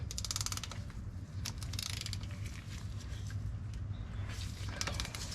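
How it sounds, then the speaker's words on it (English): A hand ratchet works on the bottom bolt of a Quadra-Trac transfer case beneath a vehicle, giving quick bursts of metallic clicking with short gaps, close and fairly quiet over a low background hum. "So right now I'm gonna pull the bottom bolt like I said."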